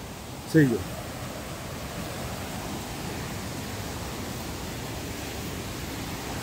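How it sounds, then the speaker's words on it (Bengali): A waterfall's steady, even rush of falling water roars without pause, with one brief sharp sound near the start. "ঝর্ণার জল পুরো বইছে"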